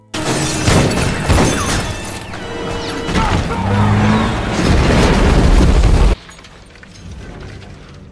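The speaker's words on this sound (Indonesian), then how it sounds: "Fuller yang masih sendirian nyaris aja ditabrak truk gede milik Rusty" A big truck nearly runs someone down in a scene from the 2001 film Joy Ride, giving loud roaring engine noise, crashing and booming impacts that cut off sharply into quieter rumble, with some voices mixed in.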